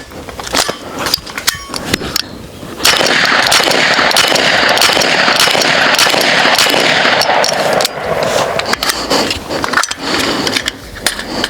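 A BinTac S45 Mini semi-auto .45 caliber airgun fires lead rounds in a dense, loud burst of rapid cracks and clatter that runs continuously for several seconds, flanked by scattered sharper pops before and after.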